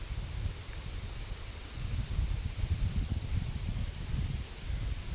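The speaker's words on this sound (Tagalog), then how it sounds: "mahangin lang kasi dito mahangin guys" Steady low rumbling wind buffeting outdoors on a grassy, flowered spot in Poland, continuous and moderately loud, with a faint rustle of leaves or grass and no voices.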